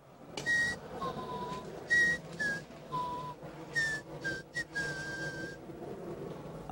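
A person whistles a show tune in short, clear melodic phrases with sliding notes and brief pauses, heard alone and fairly close in a Bavarian setting.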